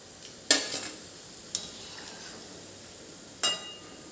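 Veg manchurian balls deep-fry in hot oil with a steady soft sizzle. Three sharp clinks of a spoon or ladle against the pan stand out above it.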